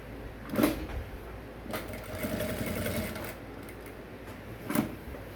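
A sewing machine stitches neck piping onto an Ankara top in one continuous run at a moderate level, marked by a couple of louder knocks near the start and end.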